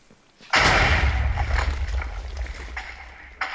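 A cannon shot explosion in a pirate ship battle video game, a sudden loud close boom that rumbles and decays over a few seconds, followed by another short thump.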